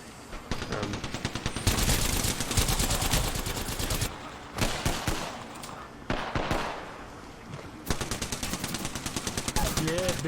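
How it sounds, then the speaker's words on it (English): Rapid energy-gun fire in an Xbox shooter, arriving as dense bursts of repeated crackling shots that stop and restart across the clip, loud and close, with game noise and faint voices beneath. "She's also shooting."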